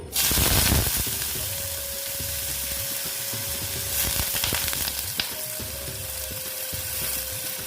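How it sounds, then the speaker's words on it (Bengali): Potatoes frying in hot oil in a pan, with a loud burst of sizzling as they go in, settling into a steady close crackle; no talk. "তেলটা গরম হয়ে গেছে এখন আমি দিয়ে দিচ্ছি অল্প আলু"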